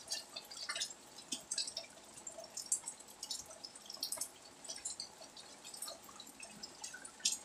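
Water trickles and drips steadily into a freshly unclogged drain, with faint splashing and irregular gurgling drops heard close and quiet.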